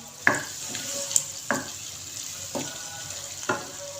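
Beaten eggs go into potatoes frying in a pan, with a steady sizzle broken by about five sharp spatula knocks and scrapes spaced roughly a second apart, close and clear.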